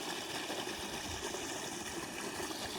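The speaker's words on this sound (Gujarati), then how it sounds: "મોટર ચાલુ છે" A running water pump motor pushes water through a farm pipe, a steady, continuous broadband rush and hum at a fairly low level with no talking.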